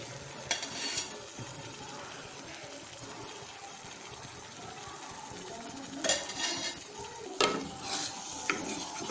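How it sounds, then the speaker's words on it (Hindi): Daal masala of onion and tomato frying in oil or ghee as it is stirred, a steady close sizzle with scraping spoon strokes and a few louder clatters against the pot. "उसके बाद हम इसकी भुनाई करते हैं"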